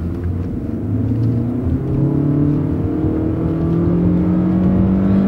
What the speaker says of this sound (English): it doesn't shift gears because it's a CVT transmission, but it's got plenty of pickup